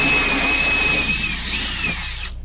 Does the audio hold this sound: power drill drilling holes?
yes